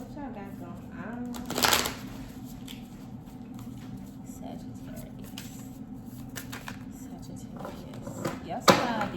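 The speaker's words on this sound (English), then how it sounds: "Y'all see how I be shuffling my cards and I'm over here wondering why I keep losing them." Tarot cards shuffled by hand, with two short papery riffling bursts near the start and end, close by and mostly under a steady speaking voice.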